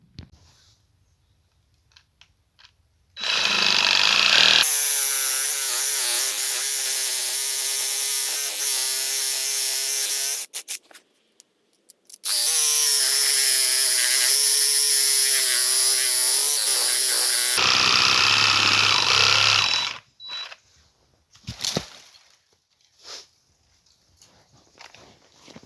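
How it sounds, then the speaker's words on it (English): A Craftsman 20V cordless Sawzall cuts into a thin tree in two long sustained bursts of loud, rasping reciprocating buzz with a wavering pitch, separated by a short pause, and quiet handling noises around them. "let's see what the Sawzall does to this thing"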